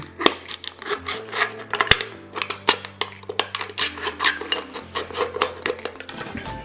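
Close metallic crinkling and scraping as a thin aluminum can is cut with scissors, with irregular clicks and snips in an uneven rhythm.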